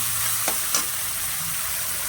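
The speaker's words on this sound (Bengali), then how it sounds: "এবার আমি পুরোটাই ভেজে নিচ্ছি একসাথে দিয়ে। চিংড়ি মাছটা একটু ভাজা ভাজা হয়ে যাবে।" Shrimp and cabbage frying together in hot oil produce a close, steady sizzle with a couple of brief stirring scrapes, no voices present.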